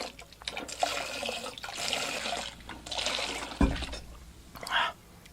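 Large amounts of water pour and splash in uneven surges with a thud partway through, near and moderately loud, and voices can be heard faintly underneath.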